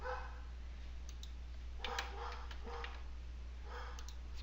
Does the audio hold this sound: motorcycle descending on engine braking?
no